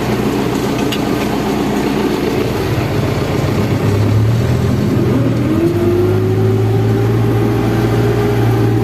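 A tractor pulling an AG 2.4 disc harrow across a sunflower field, its engine a steady loud drone that shifts pitch as it drives forward, continuous throughout with no talking.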